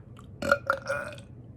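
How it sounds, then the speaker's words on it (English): A short burp with a couple of gurgling pulses, close and fairly loud, standing alone against a quiet background. "Normally I can burp better, but I'm too tired to."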